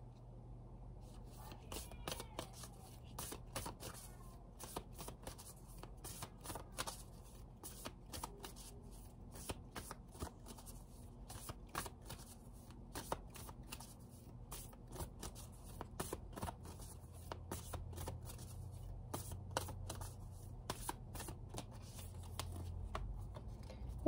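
Tarot cards shuffled by hand, a quiet, close run of soft rapid riffling taps repeating steadily through the whole stretch.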